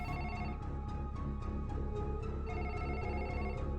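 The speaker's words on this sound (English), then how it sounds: "the fateful ringing of a phone" A telephone rings in a horror film, with repeated bright electronic bell bursts pulsing in a steady rhythm over a sustained tonal background, loud and continuous without speech.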